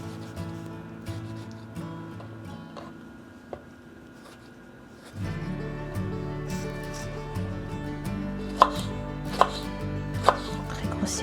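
A knife coarsely chops tomatoes on a board, with scattered sharp taps that grow more frequent in the second half over a background of soft music.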